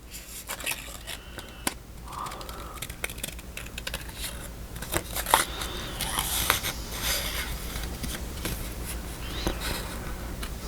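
Scissors fussy cutting a dome shape out of paper at a craft table, a run of small close snips and paper rustles in an uneven patter, fairly quiet and without talking.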